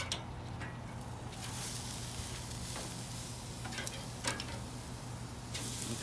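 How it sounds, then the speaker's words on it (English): Ribeye steaks sear over red-hot charcoal on an Old Smokey grill, a faint steady sizzle broken by a few sharp ticks and crackles. "we're gonna go ahead and sear these things up"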